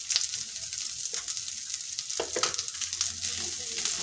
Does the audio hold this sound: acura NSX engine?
no